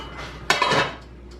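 A metal cooking pot is set down on the fire while making rice with pigeon peas, a single close clank with a short metallic ring and rattle that quickly fades.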